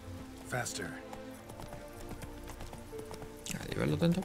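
A horse gallops in The Witcher 3, its hoofbeats clopping under a voice, with a brief whinny-like sweep near the start and another swell toward the end.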